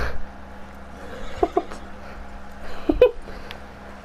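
Horses in the Red Dead Online video game, stuck in place, give a few short whinnies and snorts around the middle and near the end, fairly faint over a steady low hum and the game's ambience.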